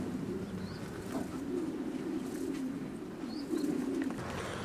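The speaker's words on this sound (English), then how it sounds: "This checker cock, pure Jansen again, is a Jack Legrand Jansen from Bob Ashman" A racing pigeon in a loft gives soft, low, repeated coos in short rolling phrases against a steady background hum, with faint chirps from other birds.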